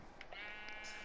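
A single sheep in Minecraft lets out a short, nasal, wavering bleat, close and clear over a faint background, with no speech.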